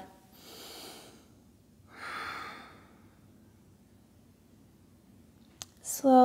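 Deep, slow breathing during a yoga class for flexibility: two audible breaths, a long airy inhale and a breathy exhale, each followed by quiet, then a brief click as a voice begins at the end.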